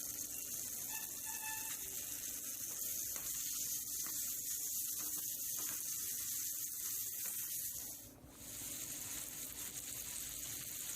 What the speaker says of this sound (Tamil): இப்போ ஈரலை இதில் போட்டு நல்லா கிளறி விடணும்.